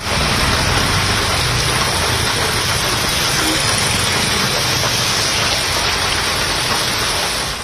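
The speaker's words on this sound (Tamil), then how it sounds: "சுமார் பதினைந்து நிமிடங்கள் மழை கொட்டியது" Heavy rain pours down steadily in Tamil Nadu, a loud dense hiss of drops on surfaces that holds at an even level throughout with no pauses and no voices.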